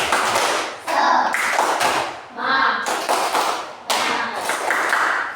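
A group of children in a classroom doing a rhythmic spirit clap, with sharp bursts of clapping in uneven groups alongside their chanting voices.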